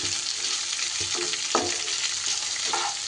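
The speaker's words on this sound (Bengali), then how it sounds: "পেঁয়াজটা একটু নাড়িয়ে চাড়িয়ে নিয়ে" Onions stir-fry in a pan for a South Indian raw mango rice dish, with a steady close sizzle and a few scraping stirs of a spoon against the pan. No talking.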